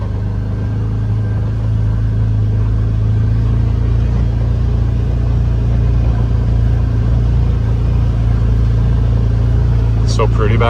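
A car creeps slowly off the road into a field, its low engine rumble steady and close throughout, with a brief higher rustle near the end.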